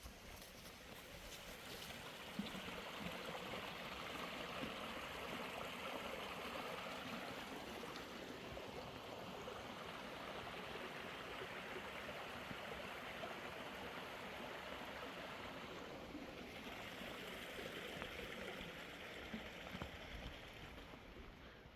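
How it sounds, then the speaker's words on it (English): A small stream flows in the Adirondack woods in fall, a soft, steady babble and trickle heard alone at low volume for over twenty seconds. "I'm gonna stop and filter some water at this beautiful little stream here"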